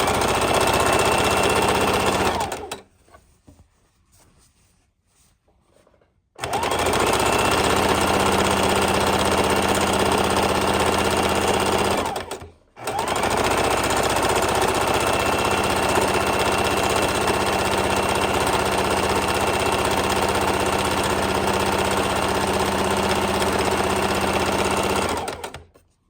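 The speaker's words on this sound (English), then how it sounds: "we're going to go ahead and sew the strap on the inside of the bag" Sewing machine stitching a strap onto the inside of a quilted book bag, a steady loud motor whir in two long runs separated by a pause of several seconds and a brief stop.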